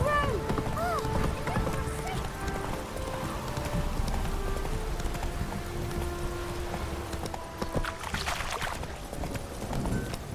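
Geralt's horse Roach galloping in The Witcher 3: Wild Hunt, steady rapid hoofbeats close and loud throughout, with a brief whinny near the start and game voices speaking over it.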